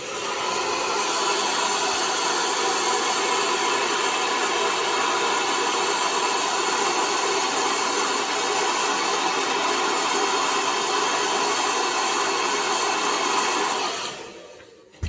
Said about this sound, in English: And I'm going to use my blow dryer.